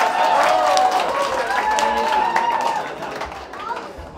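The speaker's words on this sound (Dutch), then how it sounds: "Of hij wil nog een applaus." An audience claps in steady applause at the opening of a coffee shop, with voices and crowd chatter mixed in. The applause fades toward the end.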